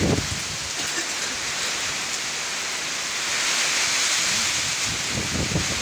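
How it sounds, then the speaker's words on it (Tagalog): Heavy typhoon rain and gusting wind pour down in a steady, dense roar that holds near and loud throughout, with no break in the downpour. "Nakikita na yung hangin kasi dala ng ulan."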